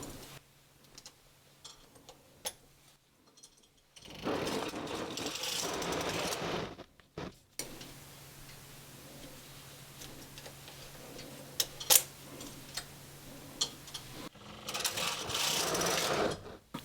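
A knitting machine carriage makes several bursts of steady mechanical clatter as it is pushed across the rows. Quieter stretches with scattered clicks and handling sounds separate the runs.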